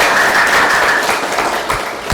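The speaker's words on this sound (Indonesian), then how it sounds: "Oke, tepuk tangan untuk kalian semua." Classroom applause for students at a teacher training session, a steady dense patter of many hands clapping together, loud and close throughout.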